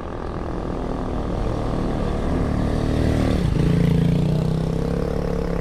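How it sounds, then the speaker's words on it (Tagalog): A motorcycle engine drones steadily nearby and swells louder as it passes close, with a brief pitch dip as it goes by, no talk over it. "may motor eh"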